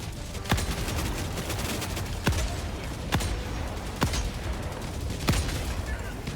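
Gunfire in the Helldivers 2 video game on the bot front, with a handful of sharp, separate shots spaced about a second apart over a dense, continuous background rumble of battle.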